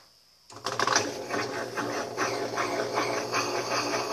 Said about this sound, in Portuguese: Vou colocar a torcer e centrifugar de novo.